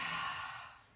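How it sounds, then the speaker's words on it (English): A single soft exhale through the mouth during a gentle stretching and breathing exercise, close and breathy, fading out over about a second. "Exhale through the mouth"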